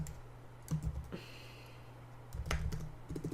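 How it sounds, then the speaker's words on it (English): Typing on a computer keyboard while entering an email address, with short bursts of clicking keystrokes over a low steady hum, separated by a quieter pause. "We're just going to type in one of my emails."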